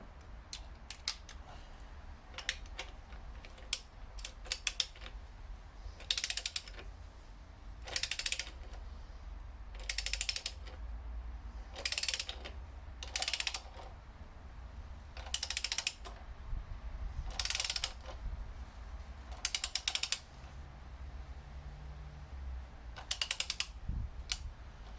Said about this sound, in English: Again, let's torque it down to 40 foot-pounds.